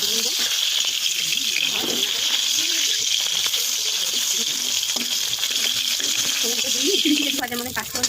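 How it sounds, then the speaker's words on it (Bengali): Hilsa fish heads fry in hot oil in a home kitchen, a steady close sizzle and crackle running unbroken throughout, with some stirring and clatter near the end. "মাথাগুলো একটু ভেজে নেবো।"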